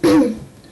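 A single short, loud cough sounds up close, rough and throaty, fading quickly.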